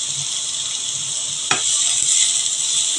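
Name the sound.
egg chow mein frying lightly in a pan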